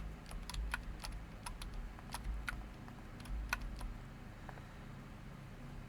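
Number keys along the top row of a computer keyboard are typed in quick, irregular bursts of crisp clicks, close and fairly quiet, with no talking.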